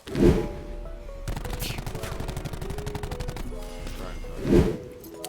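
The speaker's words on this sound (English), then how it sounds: "even though I'm shooting at him, I kind of like cancel out a lot of recoil with my left stick" A Maddox rifle in Black Ops 4 fires a sustained automatic burst into a wall. Rapid even shots run steadily for about three seconds, framed by heavier thumps before and after.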